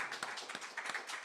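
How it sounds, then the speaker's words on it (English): Brief, fairly faint scattered clapping from a congregation at a Sunday church service, a soft patter of many hands with a few sharper claps standing out. "Can we give Michael another round of applause?"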